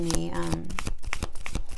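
Quick riffling and flicking of a tarot deck being shuffled by hand, a rapid papery patter over roughly two seconds, with a voice speaking over it.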